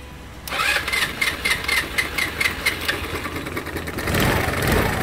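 A motorcycle with a starter-button problem cranks briefly from the button, then fires and catches, running with rough, pulsing revs close by.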